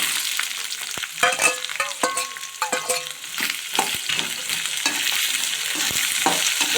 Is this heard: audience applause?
no